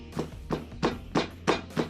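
Six evenly spaced metallic taps ring out at a steady rhythm, each a sharp hammer strike on metal.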